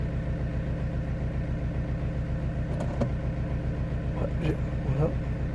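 A diesel car with a faulty number-one injector idles steadily with a low, throbbing hum, swelling slightly toward the end as the throttle is eased open, with faint knocks and clinks over it.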